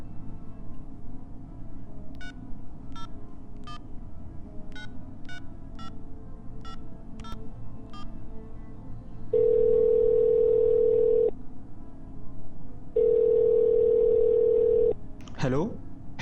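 A telephone call is placed: a quick run of keypad dialing tones, then two long, steady ringback or dial tones, followed by a brief sweeping electronic sound.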